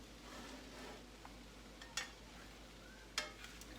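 Eggs scrambled and cooked at the side of a pan of rice; quiet steady sizzle with faint stirring and two sharp utensil clinks against the pan, close but low in level, no talk.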